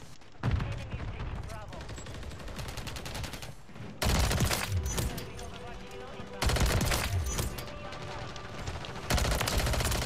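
Video game gunfire comes in several loud, crackling bursts a couple of seconds apart, each a dense volley of rapid shots, with a voice talking between them.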